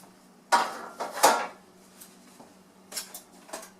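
A fork tosses cooked pasta with roasted tomatoes in a dish, making a few scattered clinks and scrapes with quiet pauses between.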